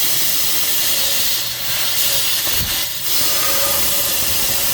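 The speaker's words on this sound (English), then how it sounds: "you can just take your air nozzle and put it right here" Compressed air from a nozzle blowing through the intake port of a 3.8 litre 3800 engine in a Pontiac Firebird, a loud continuous hiss with brief surging bursts and slight dips in pressure.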